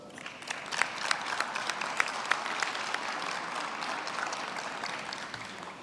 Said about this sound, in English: I see those who are not graduating are clapping